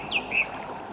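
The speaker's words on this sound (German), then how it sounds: "Oh, ein schöner Vogel." A bird in a Gothic 2 mod game gives two quick, clear chirps in succession, bright and close against a soft ambient background.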